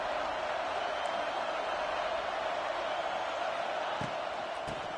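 Stadium crowd noise from an NCAA college football video game, USC versus Alabama: a steady, moderate-level roar of the crowd holding evenly throughout, with a couple of faint thumps near the end.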